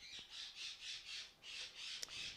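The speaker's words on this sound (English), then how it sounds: "I don't know if you can hear the birds." Outdoor birds, crow-like, give a quick run of about eight harsh, evenly spaced squawks, faint and distant with a sharp click near the end.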